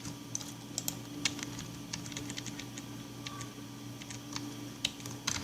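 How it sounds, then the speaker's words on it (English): A computer keyboard clicks in a steady run of light, close keystrokes that come in irregular bursts, with a faint constant hum underneath and no talking. "now we're going to type"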